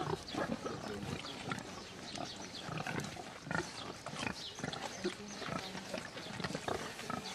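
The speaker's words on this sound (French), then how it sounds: "ils peuvent grogner de plaisir" Pigs on a farm near a hotel-restaurant in Saint-Savin, Hautes-Pyrénées, grunt and snort repeatedly and fairly close, in irregular bursts over a busy, continuous background of animal noise.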